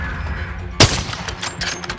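A single loud, sharp crack of an Intervention sniper rifle firing through walls in a Modern Warfare 2 Search and Destroy match, followed by fainter game noise and scattered clicks.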